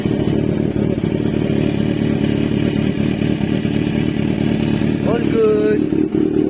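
Kawasaki Z1000 R motorcycle engine running through its stock exhaust pipe, a steady loud mid-pitched drone throughout with a brief rising rev near the end, while a person talks briefly.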